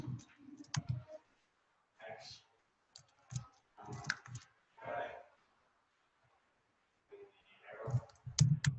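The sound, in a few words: typing on a computer keyboard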